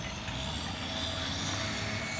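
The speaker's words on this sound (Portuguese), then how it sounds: "Aqui o caminhão de combustível que vai abastecer." A fuel truck at a road construction site between Ibitiranga and PE-380 rumbles with a steady, loud engine drone and a faint high whine, continuous throughout with no talk.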